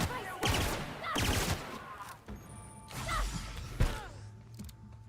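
Gunfire in The Outer Worlds, with several loud, sharp bursts of shots spaced across the moment alongside mechanical clanks and creaks.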